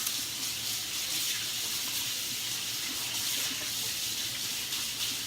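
Tap water gushes steadily into a cooking pot, readied with salt and vegetable broth for boiling bread dumplings, a close, continuous hiss with no talking over it.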